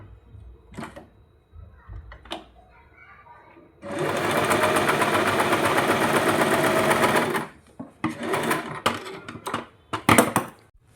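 A sewing machine stitching blouse cloth pieces together runs in one steady, loud burst of about four seconds, framed by quieter handling and clicks of cloth and machine before and after.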